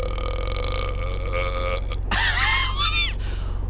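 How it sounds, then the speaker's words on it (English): A game's captain character lets out a long, loud, gurgling belch that rises and wavers in pitch, preceded by a sustained musical tone over a steady low hum. "burps audibly"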